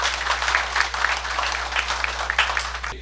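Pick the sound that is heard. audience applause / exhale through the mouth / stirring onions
audience applause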